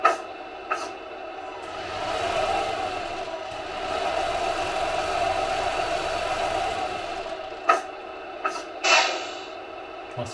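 Sound module of a Tamiya MB Actros 3363 model truck giving a steady, droning engine hum that rises and falls gently and holds for several seconds, with a few sharp clicks and a brief hiss near the end.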